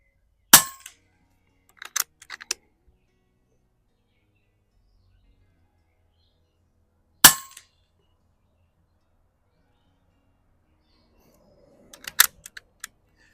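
A Benjamin Marauder Gen3 air rifle fired at the range, sharp isolated cracks with metallic clangs of hits following, spaced several seconds apart with quiet between.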